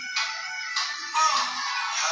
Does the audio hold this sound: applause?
no